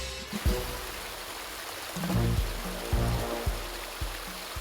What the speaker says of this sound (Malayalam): ഒരുപാട് വെള്ളം വരുത്താൻ തുടങ്ങി.